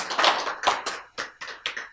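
Claps from a lecture audience, a few loud, distinct hand strikes in an uneven rhythm, close and clear with no talking.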